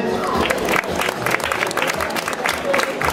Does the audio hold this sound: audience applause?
yes